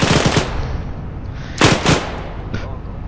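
Machine gun fire in the Arma 3 military shooter game, heard as rapid bursts of automatic shots, one at the start and another louder burst in the middle, plus a short later burst, with faint background chatter.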